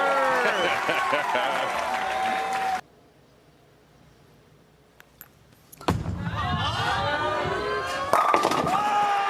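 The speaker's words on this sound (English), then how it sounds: "you can hear Kyle yelling over the crowd" A loud crowd at the 2024 US Open bowling tournament roars and shouts, falls abruptly quiet for a few seconds, then erupts again into excited cheering and yelling.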